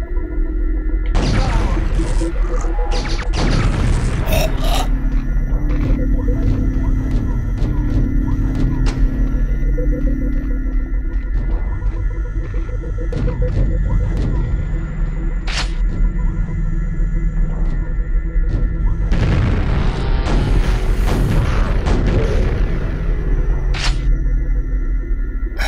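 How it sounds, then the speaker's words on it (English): Enemy grenades explode in the video game Quake, heavy booming blasts with rumbling tails in two clusters, loud against a constant droning game ambience, with no talking. "He just loves throwing those grenades at me while he's shooting them."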